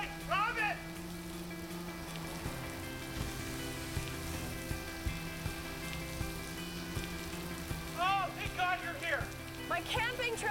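Steady rain pours outside an apartment, a soft continuous hiss under a low room hum, with brief snatches of voice near the start and toward the end.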